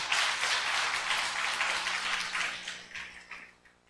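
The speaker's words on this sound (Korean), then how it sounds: "우리 하나님께 영광의 박수 올려드리겠습니다." A church congregation applauding during a Sunday worship service, a burst of many hands clapping that starts strong and gradually fades out over a few seconds.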